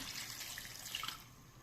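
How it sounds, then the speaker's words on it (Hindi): Water poured from above into a pot of mutton karahi cooked in desi ghee on a stove, a steady splashing pour lasting under two seconds and heard close up with no talk. "तो अभी हम इसमें पानी ऐड कर देंगे।"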